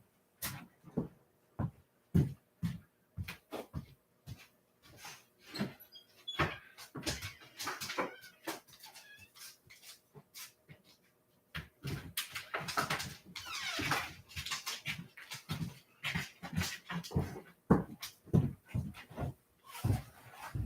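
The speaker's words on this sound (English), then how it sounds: "That's my dog scratching at the door," A dog scratches at a door in repeated sharp bursts and scrapes over about twenty seconds, near and fairly quiet, with a short pause midway before the scratching resumes more steadily.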